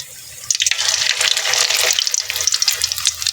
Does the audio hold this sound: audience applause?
no